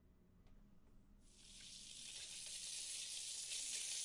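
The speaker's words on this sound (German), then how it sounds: "das weiß-gelbe Etwas in der Pfanne, das außerordentlich seltsame Geräusche von sich gibt" Fried eggs sizzling in a frying pan in a video game kitchen, a bright hissing crackle that starts after a quiet moment and grows steadily louder.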